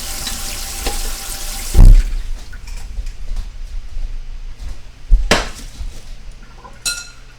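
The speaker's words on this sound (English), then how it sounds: "turn the water on so it doesn't hurt the drain system" Kitchen tap water runs steadily into a sink while pasta is drained through a colander, with loud clunks of a pot and metallic clinks of utensils breaking through the flow.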